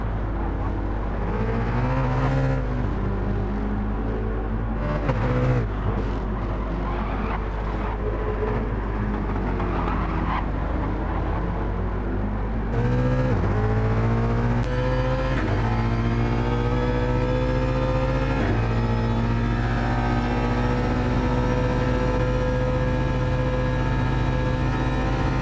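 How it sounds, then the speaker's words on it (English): A race car in a Gran Turismo 7 endurance race with retro liveries screams at high revs with a loud continuous engine wail, repeatedly bouncing off the rev limiter and shifting through gears, with pitch sweeping up and dropping. "bouncing off the rev limiter here for Surly"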